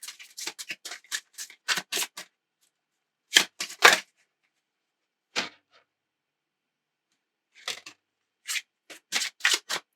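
Oracle cards being shuffled make crisp, papery riffling bursts in quick clustered groups separated by short silences, close and fairly loud, with no talking.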